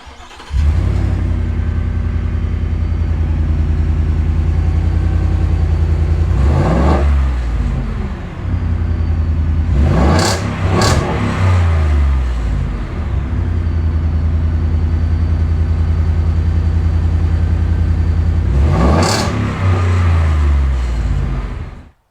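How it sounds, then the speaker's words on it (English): A 5.0 Coyote V8 in a 2023 Ford F-150 running with open headers rumbles loudly and continuously at idle, with several sharp revs that roar up and drop back, heavy and close. "I'm gonna start it up open header though. Let's see how loud this shit is."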